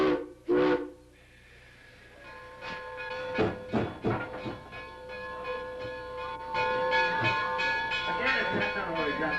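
A Strasburg Rail Road steam train on the Lancaster County line pulls away after a boarding call, with a whistle tone, hiss and rising rail clatter, sharp bursts early on and then a steady rolling noise.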